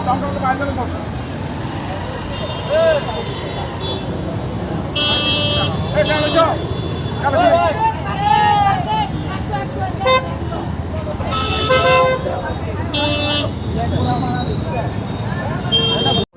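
A traffic jam at the Kharchi Mela fair, with car and bus horns honking in repeated short toots and longer blasts over a constant road rumble, while people talk nearby throughout.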